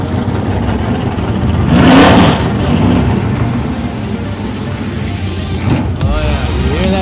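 A race car engine revs up loudly and roars for a moment, then settles into a steady drone, with a second whine rising near the end.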